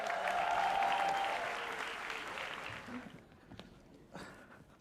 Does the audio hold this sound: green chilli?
no